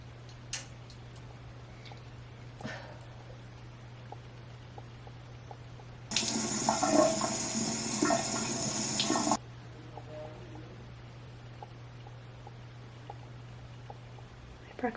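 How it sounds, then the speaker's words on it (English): Sterile saline water rinsing through a nose after a nose job, a steady broadband rush of water lasting about three seconds between quiet ticks and a constant low hum. "I'm gonna rinse my nose with sterile saline, hydrogen peroxide"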